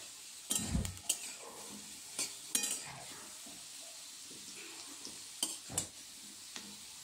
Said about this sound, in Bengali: এবার নেড়ে নেব। আলুটাকে একটু হালকা লাল করে ভেজে নিতে হবে।